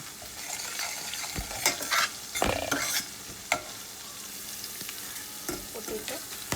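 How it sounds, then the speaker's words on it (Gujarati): Puff-pastry filling with turmeric sautéing in a pan, a soft steady sizzle broken by repeated scraping stirs of a spoon, close and fairly quiet, with no voices. "થોડું સાતળવા દઈશું એને."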